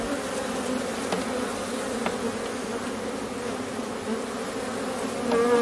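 Honeybees during a hive inspection while making an artificial swarm; a dense, steady buzzing hum close by, continuous and even, with a few individual bees passing nearer.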